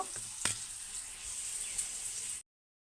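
Cauliflower fries in a pan with a steady, bright sizzle, broken near the start by a single sharp utensil clack and a faint knock later, before cutting off abruptly.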